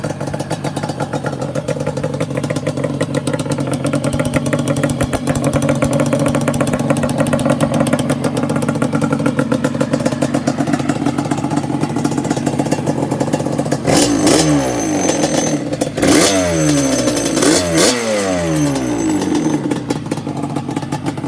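A Yamaha Banshee 350 two-stroke fitted with CPI exhaust pipes and an extended radiator runs loud and close, holding a steady rev before a few sharp blips of the throttle near the end.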